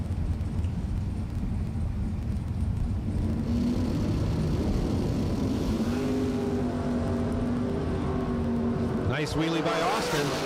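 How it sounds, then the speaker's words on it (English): Bracket drag racing cars launch down the strip, one lifting into a wheelie, with a loud sustained engine roar that rises in pitch near the end and a commentator talking over it. "Nice wheelie by Austin"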